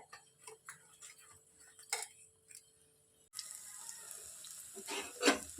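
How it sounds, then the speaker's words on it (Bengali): Semolina fritters (bora) drop one by one into hot oil in a wok. After a few quiet ticks and clicks, a soft, steady sizzle and hiss begins midway and continues with light crackling. "এই যে বড়াগুলো ভাজা শুরু করে দিয়েছি, কড়াইতে দিয়ে দিচ্ছি, এখন ভেজে নিচ্ছি একে একে।"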